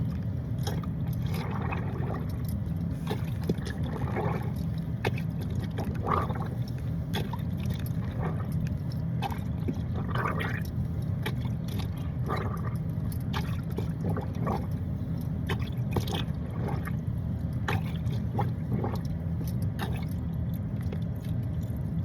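A plunger works soapy water to wash a pair of slacks inside a Prius V. The churning and sloshing runs continuously, loud and close, with no pauses.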